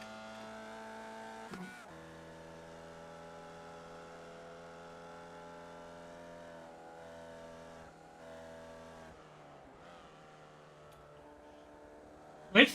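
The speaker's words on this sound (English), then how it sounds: "Listen to the change of sound in this car." A Formula Vee race car engine in iRacing drones with steady harmonic tones, shifting pitch a few times as it comes on and off the throttle, ending with a sharp burst.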